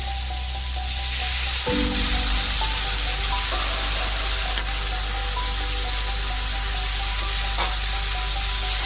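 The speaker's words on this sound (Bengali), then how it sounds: "এটাকে একটু ভালো করে এবার কষিয়ে নেব" Potatoes and banana stem sautéing in a pan for a prawn curry, with a steady, close sizzle and low rumble throughout that picks up after a soft clatter near the start.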